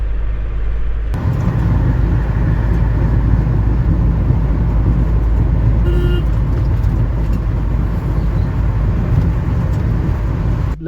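A car cruises along a highway on a long road trip from Pune toward Udupi and Mangaluru, a loud, steady rumble of engine and road noise with a brief horn-like tone partway through, and no talking.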